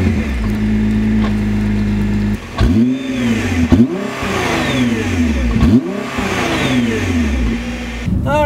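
A 2014 Nissan GT-R engine cranks, starts and settles into a steady idle, then is blipped through several sharp revs that rise and fall in quick succession, loud and close with no talk.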